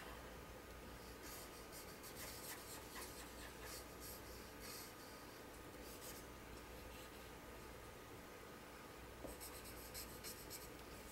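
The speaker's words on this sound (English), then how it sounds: "So I'm going to color in the main part of the basket, and I'm going to use my chisel tip" A chisel-tip marker colouring a large area of a spring basket drawing on paper, soft scratchy back-and-forth strokes in quick bursts, close but very quiet.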